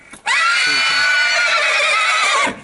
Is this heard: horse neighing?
yes